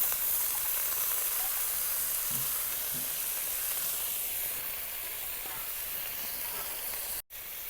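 Gourd peel and eggplant hit hot oil with reddened onion and chilli in a home kitchen pan, a dense continuous sizzle and hiss that holds steady close up before cutting off sharply near the end.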